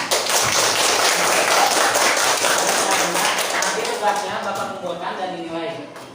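Students clapping together in a classroom, a dense, steady patter of many hands lasting several seconds before thinning out, with faint voices underneath near the end.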